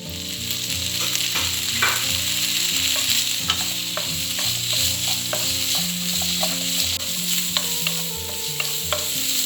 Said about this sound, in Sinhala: මේ විදිහට බේකන් ටික ෆ්‍රයි කරගන්නකොට